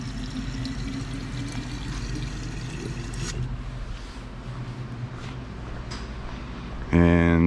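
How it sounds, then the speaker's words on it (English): Water pours steadily from a container while filling an autoclave reservoir in a lab, a continuous splashing stream, with a short loud burst of another sound at the end. "we're gonna fill up some water."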